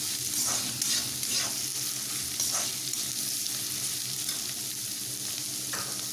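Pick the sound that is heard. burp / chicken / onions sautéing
onions sautéing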